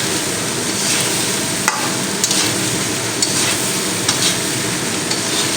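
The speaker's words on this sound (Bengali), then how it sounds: "তো খুব ভালো করে আমি ভাজা ভাজা করে নিব" Rice stir-fried with winter vegetables sizzles loudly and steadily in a pan, close and constant. A spatula scrapes and knocks against the metal every second or so.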